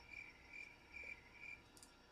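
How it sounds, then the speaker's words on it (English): A cricket chirping sound effect: four evenly spaced, shrill trills repeating at a steady pace, quiet and isolated against a faint background. "The cricket sound I used was actually, I thought was really funny"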